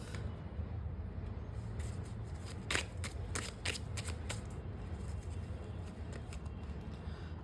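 Playing cards are shuffled and drawn close up in a series of short crisp riffles and snaps, faint over a steady background hiss.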